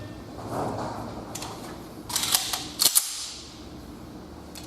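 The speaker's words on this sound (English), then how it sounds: "This is what I do when I load my gun back home." A handgun is loaded with a snap cap, a sequence of sharp metallic clicks and clacks with two louder snaps near the middle, preceded by softer handling noise.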